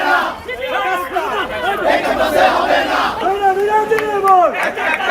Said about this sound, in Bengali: এ সময় ছাত্রদলের নেতাকর্মীরা শিবিরকে ক্যাম্পাস থেকে বহিষ্কারের দাবিতে স্লোগান দেন।